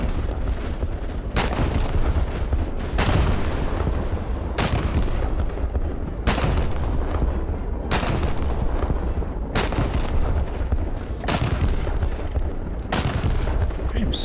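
A div gun in the vehicle-combat racing game Wreckfest firing rapidly, a steady series of loud, evenly spaced heavy blasts, roughly one every one and a half seconds, close and dominant with no talking.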